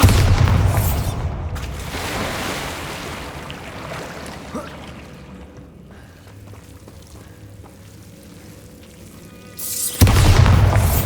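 A Bombarda spell blast in the video game Hogwarts Legacy: a loud booming burst at the start, a fading rumble, then another sharp explosive hit near the end.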